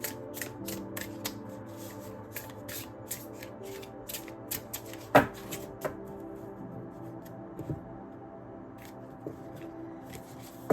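Oracle cards are shuffled by hand in a quiet room, giving a run of soft, irregular riffling flicks and rustles with a couple of sharper snaps.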